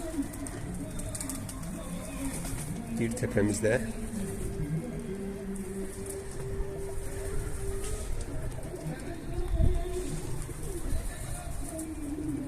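Pigeons coo softly near a coop while people talk over them in a quiet outdoor setting.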